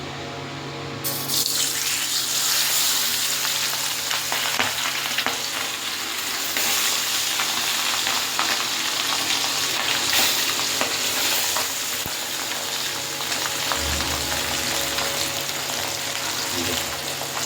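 Kolin pabda fish fry in hot oil, one piece at a time, making a continuous dense sizzle and hiss that holds steady and close from start to finish.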